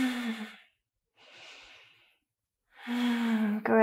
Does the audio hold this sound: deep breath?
yes